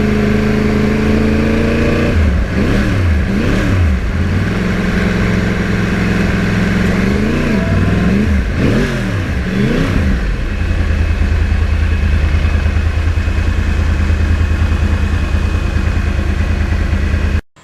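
A 2009 Yamaha R1 crossplane sport bike without traction control revs repeatedly over a steady idle, with rising and falling swoops in the first ten seconds before settling into a loud, constant rumbling drone close by.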